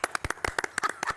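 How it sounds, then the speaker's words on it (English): A small audience claps for Penn & Teller, the magic duo, in a New York studio: sparse, distinct, uneven hand claps from a few people, fairly quiet and brief. "Another round of applause for me, please."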